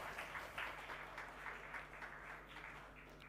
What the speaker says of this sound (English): a round of applause for Dr. Habuka